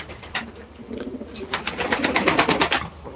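Several pigeons in a loft of Turkish play pigeons make repeated soft, throaty coos up close. The coos come in overlapping rhythmic bursts that grow busier toward the end, with no speech.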